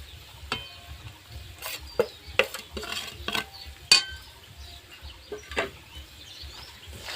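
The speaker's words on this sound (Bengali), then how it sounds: "মশলার সঙ্গে আর একটু আমি হালকা নেড়ে চেড়ে নেব" Jujube pickle being stirred in a pan with roasted spices, giving irregular scraping clicks and soft clatters of a spoon against the pan over a faint low sizzle, fairly close, with no voice.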